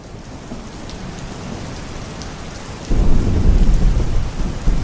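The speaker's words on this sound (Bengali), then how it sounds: "বাইরে তো গুড়ি গুড়ি বৃষ্টি হইতাছে, বিদ্যুৎও চমকাইতেছে।" Drizzling rain pours steadily as a deep roll of thunder swells in partway through, loud and rumbling under the continuous hiss, no voices.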